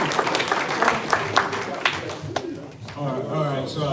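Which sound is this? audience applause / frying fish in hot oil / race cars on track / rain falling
audience applause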